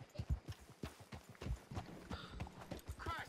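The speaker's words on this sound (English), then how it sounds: "turn the horse" Horse hooves clip-clop on the ground in the Red Dead Redemption 2 video game, a steady run of hoofbeats with irregular rhythm, moderately loud, with some faint background game sounds and no talking.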